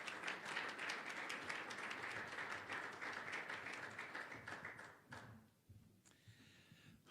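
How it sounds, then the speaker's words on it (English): Conference audience at a legislative outlook event giving a sustained round of applause that fades after about five seconds, followed by faint room noise. "Let's welcome him with a warm round of applause"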